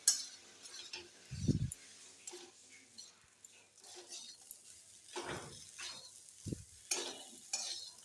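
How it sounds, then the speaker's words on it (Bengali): Pasta with scrambled egg and spices being sautéed in a pan, giving a faint sizzle with occasional spatula scrapes and clinks, a few sharper knocks scattered through, under quiet background sound. "এবার দিয়ে দিচ্ছি পাস্তাগুলো, ভালোভাবে কষে নেব।"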